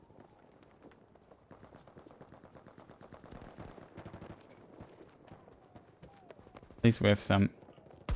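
An automatic weapon fires in a tank video game. Someone talks over faint game noise, then a short, loud burst of rapid shots cuts in near the end.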